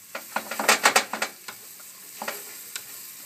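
Garlic sizzles lightly in a pan for risotto Milanese as a spoon stirs it, a quick burst of close scraping strokes that then thins to sparse taps over a soft frying hiss.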